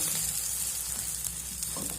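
A paratha fries in oil on a pan, giving a close, steady sizzle with soft crackles and a brief scrape near the end.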